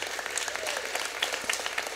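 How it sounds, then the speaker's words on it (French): Brief burst of enthusiastic audience applause, many hands clapping densely together, fairly loud and close. "J'aimerais ça prendre le temps qu'on les applaudisse, ces gens-là."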